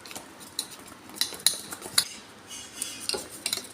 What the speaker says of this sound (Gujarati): હવે તેને થોડું થોડું પાણી પાડી અને બેટર બનાવી દઈશું.